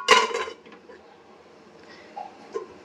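A metal lid set down over a pot of hilsa fish steaming in a tiffin box, giving one sharp clatter up close followed by a couple of faint softer clinks.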